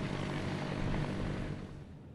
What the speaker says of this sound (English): Helicopters called heli-torches are throwing fire at designated areas to create a line to stop the fire from going any closer to Carmel Valley.